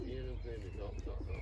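A racing pigeon arriving at the loft coos in a series of soft, rolling burbles close by, with steady low background noise throughout.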